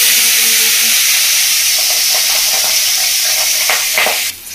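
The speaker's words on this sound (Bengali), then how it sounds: "এবার আমি মাছগুলো ছেড়ে দেবো।" Pieces of boal fish dropped into hot oil seasoned with turmeric and salt, a loud, close, continuous sizzle and hiss with a few crackling spurts and a sharp burst near the end.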